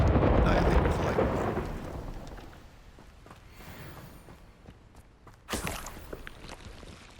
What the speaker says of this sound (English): we'll just annihilate with lightning